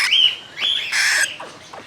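Exotic cockatiels give a few short, loud squawks and chirps close by, three bursts in quick succession with brief gaps between them.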